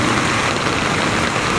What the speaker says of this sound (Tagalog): Lumakas na naman ang ulan. Malakas ang ulan.